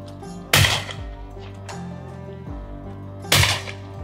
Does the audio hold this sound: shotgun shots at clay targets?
yes